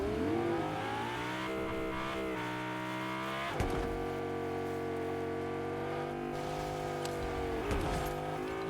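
A car in the Fortnite video game drives steadily with a sustained engine drone and harmonic whine, held at a constant pitch with a couple of brief clunks from bumps, close and loud without any talk.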